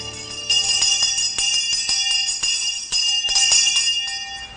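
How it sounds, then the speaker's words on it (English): A bell at Alderson Federal Women's Prison rings repeatedly for prisoner counting, with sharp metallic strikes and a bright, lingering ring, the rhythm slightly uneven. "The bell ringing is a big part of Alderson history."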